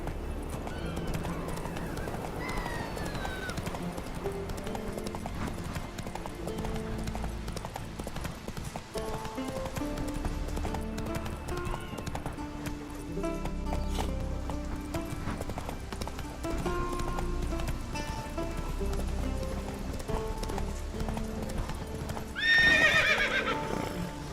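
A horse in The Witcher 3 video game gallops with continuous rhythmic hoofbeats over a soft musical backdrop, slowing over time, and gives a short whinny near the end.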